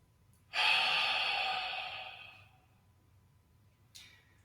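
A single deep, slow breath drawn in during a Shiatsu class, close and soft, rising sharply then fading over about two seconds, followed by a brief faint breath sound near the end in a quiet room.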